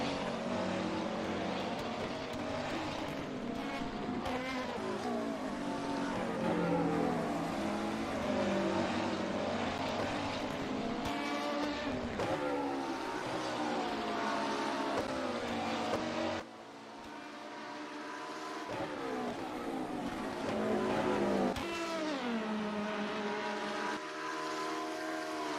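A McLaren race car engine roars during an endurance race at Road America, a loud sustained high-revving drone with rising and falling pitch as the car passes, briefly dipping before surging back up.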